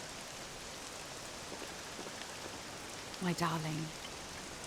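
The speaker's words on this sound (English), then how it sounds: "This accursed rain will chill ye to the bone." Steady rain falls in a Dragon Quest VII Reimagined scene, an even hiss running through the whole stretch while a voice speaks briefly near the end.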